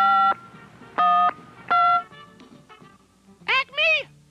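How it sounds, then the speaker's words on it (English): A telephone is dialed in a sequence of touch-tone beeps, three long tones followed by shorter ones, close and clear, with a brief voice-like sound near the end. "So he picks up the phone and dials old Acme."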